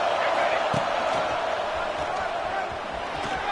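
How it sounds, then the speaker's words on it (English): A packed stadium crowd at an Indiana college football game produces a loud, continuous roar of cheering and noise that holds steady throughout, with a commentator's voice running beneath it. "It's early, but this crowd is fired up. Listen to this noise here."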